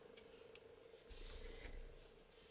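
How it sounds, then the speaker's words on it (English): Scissors snip short crochet yarn tails on a small granny Christmas tree, giving a few faint, quiet clicks and soft cuts close by against a hushed background. "Then we cut the yarn really short"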